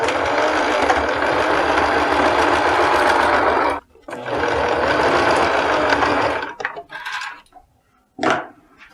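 Sewing machine running steadily while backstitching a fleece crossbody bag, with two long continuous bursts separated by a brief pause, then a few short stops and starts, close and loud.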